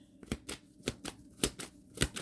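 A deck of tarot cards is shuffled by hand, giving a quick run of about ten crisp riffling bursts in a steady rhythm, close and fairly loud, with no talking.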